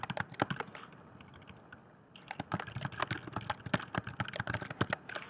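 Text typed on a computer keyboard: a quick irregular run of clicking keystrokes, a brief lull, then faster dense tapping close to the mic, no talking.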